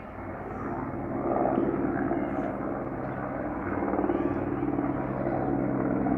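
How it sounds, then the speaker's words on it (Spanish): A helicopter flying high overhead during a September Independence Day parade in Mexico, a steady distant rotor drone that swells slightly, with no talk over it. "Un helicóptero. Pero sí está a una gran altura, ¿eh?"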